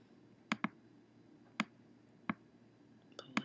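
Computer mouse clicks while adding points in GarageBand, a few sharp, quiet, close clicks, some in quick pairs, spaced irregularly over a faint background hiss.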